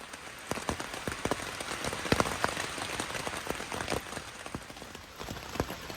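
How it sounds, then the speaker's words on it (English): Heavy rain pours steadily onto a tent on the Appalachian Trail, a dense constant patter with sharper individual drops striking the fabric close by throughout. "It is pouring rain outside, and I really have no choice."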